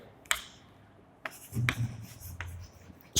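Chalk or pen writing on a board, a few short scratchy strokes and taps spaced apart, near and moderately loud, with a voice talking in between.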